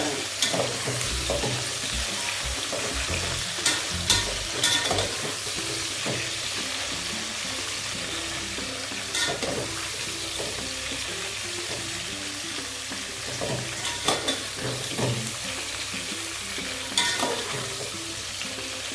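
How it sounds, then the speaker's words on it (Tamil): Brinjal frying in oil in a pan, a steady close sizzle broken by scraping stirs and clinks of a spoon against the pan, with no voices. "கத்திரிக்காய் நல்லா வதங்கிடுச்சு"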